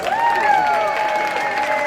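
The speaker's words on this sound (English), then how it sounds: "Give them a round of applause." Audience applause after a group finishes a presentation: a steady wash of clapping lasting about two seconds, with a sustained tonal voice or note riding over it.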